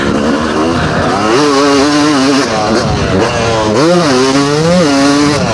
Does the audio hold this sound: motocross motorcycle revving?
yes